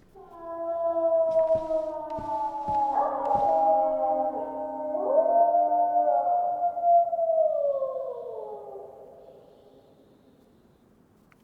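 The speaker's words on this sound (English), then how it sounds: "I'm not sure if other players can hear the wolves howling for me" Wolves in the DayZ survival game howl near a farmhouse, several long, wavering, rising and falling cries overlapping one another over a quiet background, with a few faint knocks early on, then fading out.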